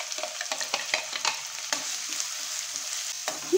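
Finely chopped onion fries in hot oil in a kadhai with a bright, crackling sizzle, close up, and the spoon scrapes and stirs through it. No one speaks.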